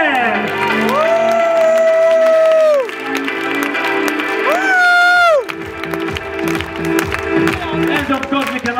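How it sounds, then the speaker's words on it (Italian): Crowd at a resort evening show applauding and cheering, loud and sustained throughout, with music playing and whoops rising over the clapping. "Big applause for Mr. Lele!"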